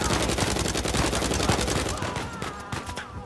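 Rapid automatic gunfire from the video game Uncharted 4: A Thief's End, a dense continuous volley of loud shots that thins out toward the end.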